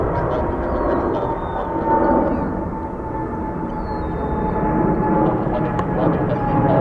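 An Aeromexico heavy jet taking off from runway 13 right at JFK, heard as a steady, loud engine roar that swells and holds, with faint radio chatter layered on top.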